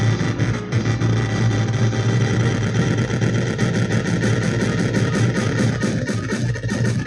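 Granular synthesis run through saturation and distortion produces a dense, gritty, continuous drone with a steady low hum and a faint flickering texture on top, holding at an even loudness throughout.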